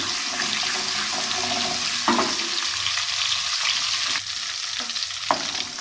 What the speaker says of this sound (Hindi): ऑयल डालने के बाद हम इसमें लहसुन डालेंगे।